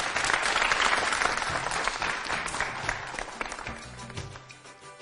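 A school audience at an event at Goce Delchev primary school gives sustained applause, dense clapping from many hands that stays loud and then thins slightly toward the end.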